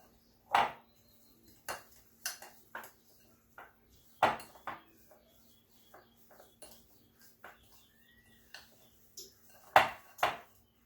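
Keto butter pie ingredients, including monk fruit sweetener, being mixed in a bowl, with irregular clinks and scrapes of a utensil against the bowl, close and fairly quiet, in short bursts separated by pauses.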